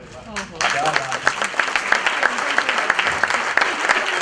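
Loud audience applause and clapping for prize winners at a community contest event, a steady crowd ovation rising suddenly and continuing under a voice speaking over it.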